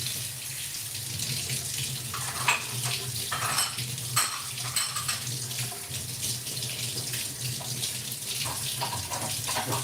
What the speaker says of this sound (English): It's gonna be me washing a carrot.